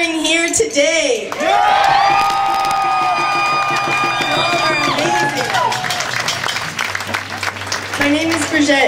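Crowd at an outdoor rally against the Enbridge pipeline decision in Vancouver, cheering and whooping loudly for several seconds, with shouts and applause swelling and then fading.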